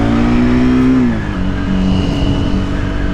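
Triumph Speed 400 single-cylinder motorcycle engine revving and pulling through gears while riding, a loud steady engine drone that rises then drops slightly as it eases into a corner.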